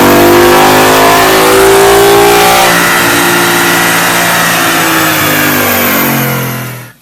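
A 2013 Ford Mustang GT with a JLT intake revs hard on a dyno, its V8 roaring loud and rising steadily in pitch through the pull before cutting off abruptly at the end.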